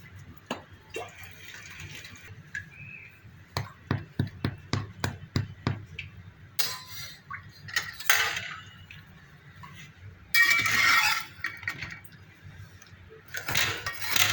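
A metal egg flipper scrapes and taps against a pan while freeing a loaf of no-knead ciabatta bread, with a run of quick clicks and clinks, then louder rough scraping bursts, and voices talking nearby.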